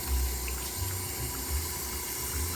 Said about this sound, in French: avec l'eau chaude, je nettoie mon tarot avant de mettre dans ma marmite.